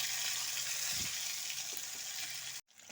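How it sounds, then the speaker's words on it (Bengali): Potatoes fry in a pan of hot oil with bay leaf and asafoetida for a vegetarian bori muri ghonto. A close, steady sizzle runs throughout, with a soft stirring bump, then drops out briefly near the end before resuming. "আলুগুলো একটু ভাজা ভাজা করে নিয়েছি।"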